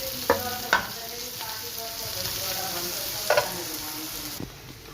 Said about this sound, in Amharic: አሁን ኢንዶሚን እቀቅላለሁ ማለት ነው።